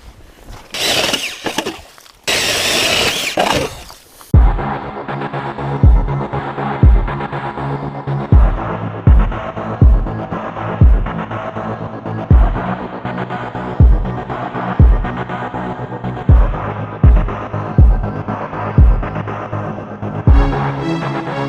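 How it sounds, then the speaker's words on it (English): A powered ice auger drilling holes through lake ice while ice fishing, opening with bursts of engine revving, then a loud, steady motor drone with a rhythmic throb pulsing about every second for the rest of the run. "I might drill some more holes."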